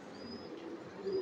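Fancy pigeons such as Andalusian and dewlap breeds in a loft, a brief soft low cooing close by with a faint thin whistle above it, no talk.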